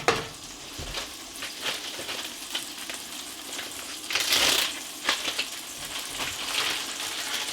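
Russet potatoes seasoned with kosher salt and coarse black pepper frying in a pan in an off-grid Alaskan cabin, a steady close crackling sizzle with occasional scraping stirs and louder spatters.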